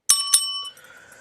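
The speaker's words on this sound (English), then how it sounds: "we'll ring the yellow bell" A small yellow bell rung on a live stream gives two quick bright dings close together, each leaving a clear ringing tone that fades out over about half a second.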